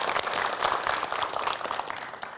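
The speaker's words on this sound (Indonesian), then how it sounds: "Tepuk tangan dong." A studio audience claps for a Ramadan pre-dawn variety show, a brisk, close burst of many hands that stays full and lively before easing off at the end, with no talking over it.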